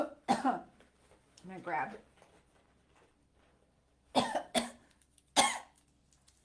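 A person coughs several times in sharp, close bursts, with a brief stretch of talking in between and quiet gaps around the coughs.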